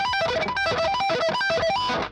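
Fast, sloppy sweep picking on a distorted electric guitar smears into a dense, messy run of notes, with only the high strings coming through clearly over about two seconds.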